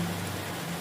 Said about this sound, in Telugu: నైట్ అంతా ఫుల్ వర్షం పడతా ఉంది కదా